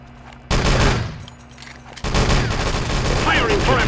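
Sudden heavy volleys of gunfire and explosions in the Wolfenstein: Enemy Territory video game, on the Electra map, burst in loud and dense after a quieter moment, with voices under the shooting.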